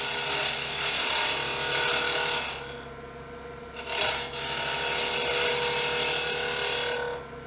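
A wood lathe takes light cuts on a small wood pendant, giving a steady, dense scraping hiss that runs almost without a break and eases briefly twice before returning at full strength.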